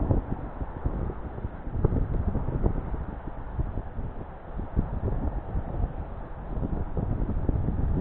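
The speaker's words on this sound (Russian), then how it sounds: "не кайфово ловить вообще так, блин, с ветром-то" Gusty wind buffets the microphone in a continuous low roar while fishing on the Volga, rising and falling throughout with no voices.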